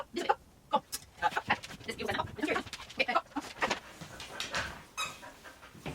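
Finnish Lapphund dog panting in quick rhythmic breaths close to the mic, with faint whimpers and other small sounds mixed in.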